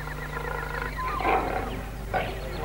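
Tiger roaring in a zoo setting, a rough mid-range growl swelling twice over a steady low hum, moderately close with no voices.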